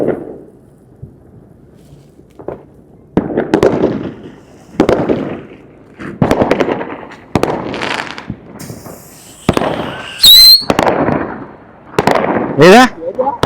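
New Year firecrackers and fireworks set off in the Kairan desert in Kuwait: a run of loud, close bangs and crackling bursts, one with a rising whistle, spaced a second or two apart, with people's voices between the blasts.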